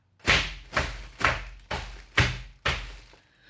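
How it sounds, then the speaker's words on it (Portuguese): Foley footsteps for a sound-effects piece land as six heavy, evenly spaced thuds about half a second apart, each one loud and close with a short decay. "Então é que escutam os passos se aproximar."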